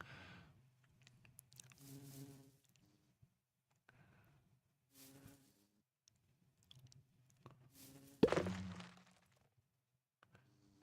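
Bees buzz in a Minecraft world running the All the Mods 9 modpack, with several short buzzing bursts separated by quiet gaps and one louder burst near the end.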